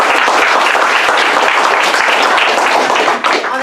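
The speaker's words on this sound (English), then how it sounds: "let's give a big round of applause for our speakers making that happen tonight" Sustained loud applause from an audience at an evening debate on capitalism, dense clapping filling the room evenly throughout before tapering slightly at the end.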